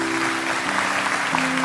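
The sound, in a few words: audience applause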